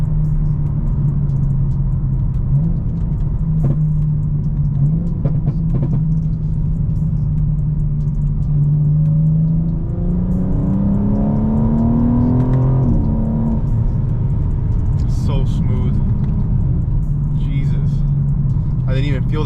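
An 850 hp BMW G82 M4 xDrive's exhaust with downpipes drones steadily, then climbs in pitch as it accelerates hard before easing off; a voice talks over the engine.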